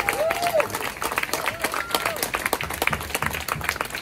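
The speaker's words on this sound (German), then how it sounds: "Ein Applaus einmal bitte für Fluki." At a basic income march rally in Berlin, an outdoor crowd claps and cheers for a speaker, with uneven, scattered claps, voices calling out and a whistle-like tone early on.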